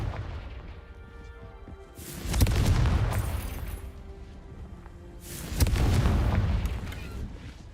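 Confringo fire spell cast in the Hogwarts Legacy video game: two heavy, booming explosions a few seconds apart, each a deep roaring blast that rumbles and slowly fades over a quieter background hum.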